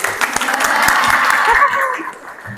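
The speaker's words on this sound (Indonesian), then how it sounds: "Tepuk tangan untuk siapa namanya?" Classroom applause in a school lesson, a burst of scattered hand clapping from students that swells, holds for a couple of seconds and then thins out, with faint chatter and a chuckle mixed in.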